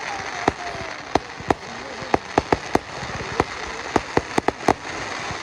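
Fireworks at a Guy Fawkes bonfire night in Newtonhill, Scotland, sharp crackling bangs popping one after another at irregular intervals over a steady outdoor hiss, some close and loud.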